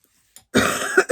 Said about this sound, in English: Okay, so sorry I'm coughing.